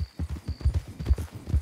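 Horse hooves clip-clop in a quick, steady rhythm during a hard ride in pursuit of a criminal, the beats close and fairly loud, with a faint high tone running underneath.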